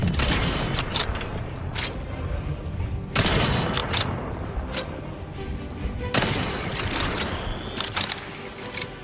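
Gunfire in the video game The Outer Worlds 2, a few bursts of sharp, loud shots spaced several seconds apart over a busy background of mechanical clatter and effects.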